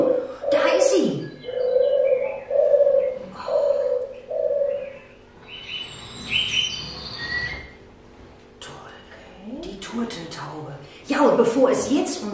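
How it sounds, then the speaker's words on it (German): A turtle dove gives a run of low, purring coos at a steady rhythm, followed by higher chirps from other birds, with people talking at the start and end. "Diese Turteltaube haben wir kennengelernt. Die hat eine ganz tolle Stimme."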